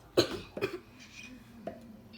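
A few soft coughs, quiet and close, come in short bursts with pauses between them over a low background.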